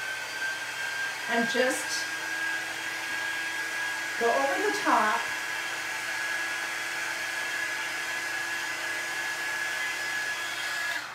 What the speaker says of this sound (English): You can take a heat gun or even a blow dryer